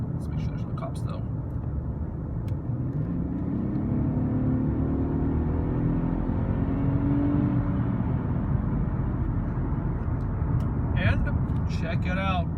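Infiniti/Nissan car accelerating hard with a steady, rising engine roar heard from inside the cabin, loud and continuous, with brief voices near the start and end.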